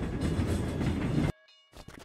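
A train rolling along railway tracks in a cartoon parody, a loud steady rumble for over a second that cuts off abruptly, followed by quieter scattered sounds.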